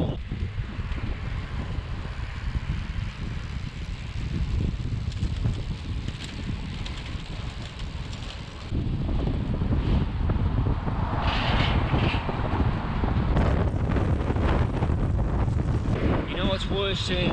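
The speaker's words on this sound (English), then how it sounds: "That's towing a trailer with a bloody headwind" Heavy headwind buffets the microphone on a Colnago C50 cross bike towing a trailer, a constant low roaring rumble that grows rougher and louder halfway through, with no voices.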